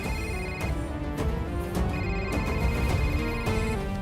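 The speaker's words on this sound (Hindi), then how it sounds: "उसी का फोन आ रहा है सर।" A phone rings continuously in a Hindi-dubbed action thriller film, a loud, steady tone pulsing in a regular pattern, with no talking over it.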